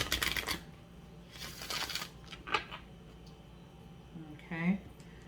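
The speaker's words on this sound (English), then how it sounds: "One more shuffle here." Tarot cards being shuffled in a few quick riffling bursts, close and soft, with a voice talking between the shuffles.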